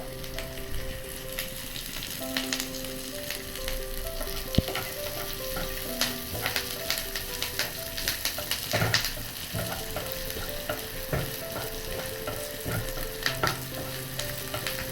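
Curry leaves fry in hot oil for upma, giving a continuous crackling sizzle with frequent sharp pops and light clinks of a spoon stirring the pan.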